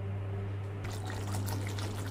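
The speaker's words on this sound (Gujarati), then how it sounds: "હવે એની અંદર આપણે થોડુંક પાણી એડ કરી દઈશું" Water pours into gravy simmering in a pan, starting after a brief pause as a steady splashing trickle over a low kitchen hum.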